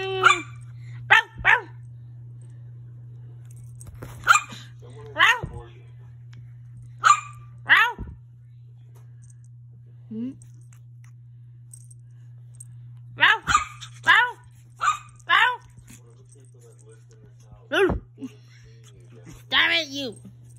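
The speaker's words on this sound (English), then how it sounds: "Stop barking, Angel." A dog barks close by in short, sharp bursts, singly and in quick clusters with quiet gaps between, over a constant low electrical hum.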